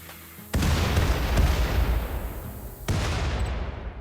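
Explosions and gunfire in the combat game RimWorld with Combat Extended: a loud blast erupts, a dense roar of rapid shots and booms follows, and a second heavy burst hits near the end.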